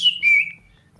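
A man whistles a short two-part tune alone, a bright sliding note followed by a longer steady tone that fades, close and clear over a faint low hum.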